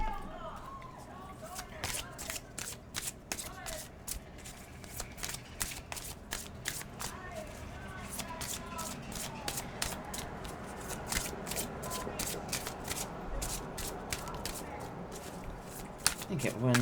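Oracle cards are shuffled by hand in a quick series of crisp riffling flicks and slaps, close and fairly soft, with faint murmured talk underneath at times.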